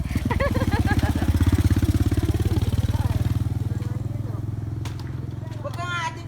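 A motorcycle engine thrums close by with a steady, loud pulsing rumble that slowly fades as it moves off along a rural provincial road, with people talking over it.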